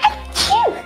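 A single short, sharp sneeze bursts out close to the microphone, followed by a brief voiced sound.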